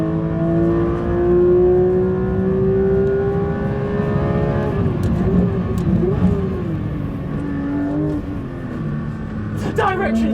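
Porsche GT3 RS Weissach engine held at full throttle on a race track, a loud sustained rising howl that dips briefly through a corner and climbs again, with someone talking over it.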